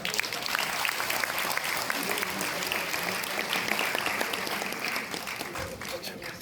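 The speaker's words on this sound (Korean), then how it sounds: "모두 뜨거운 박수로 맞아주십시오" Audience applause at a political party launch ceremony, a broad, steady roar of many hands clapping that holds loud and unbroken for several seconds, with faint voices mixed into the crowd.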